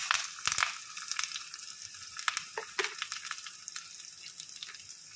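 Mustard and fenugreek seeds splutter in hot oil for a taro-leaf theeyal curry, scattered sharp pops and crackles over a soft sizzle, close and fairly quiet, with no talking.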